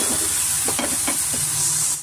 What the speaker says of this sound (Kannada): ನಾನು 3/4 ಭಾಗ ಆಗೋಷ್ಟು ನಾನು ತರಕಾರಿ ಫ್ರೈ ಮಾಡ್ಕೊತಾ ಇದ್ದೀನಿ